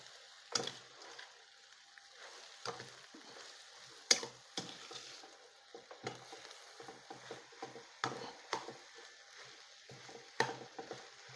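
A spoon stirs a jackfruit seed and ivy gourd curry with ground paste in a pan, making close, irregular scrapes and clicks with a soft background hiss and no talking.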